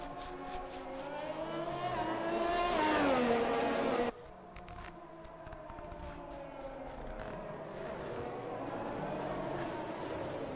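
F1 video game race cars at the Singapore round run slowly behind the Aston Martin safety car. A loud engine note rises and sweeps, then cuts abruptly to a quieter steady drone of engines for the rest.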